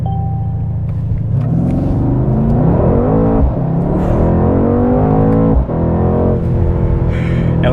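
Mercedes-AMG C63s V8 sedan from 2021 in race mode with traction off, revving loud and close on brake and throttle, engine pitch climbing and falling through several strong rev sweeps.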